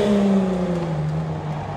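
A BMW car engine revving close by at a drag race, pitch sliding down as the throttle eases, a loud throaty rumble with no voices.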